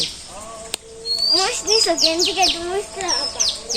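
Oriental magpie-robins and other birds call around a village house, a quick sequence of bright chirps, whistles and warbling notes, fairly close and clear after a sharp click.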